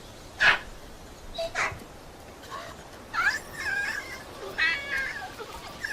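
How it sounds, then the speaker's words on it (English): An angry scar-faced leader of a group of bachelor monkeys barks in a few sharp, harsh bursts with gaps between them, fairly close against a quiet outdoor background. "the scar-faced leader of the bachelors barks angrily at them"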